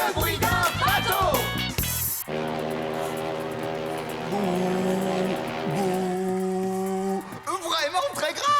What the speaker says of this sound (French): Bruno, le bruit d'un bateau.